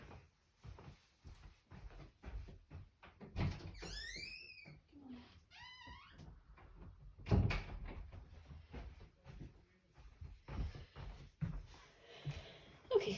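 Rattling clatter of a door being handled and opened for a small dog scratching at it, with scattered knocks and bumps and some brief high squeaky whines in the middle.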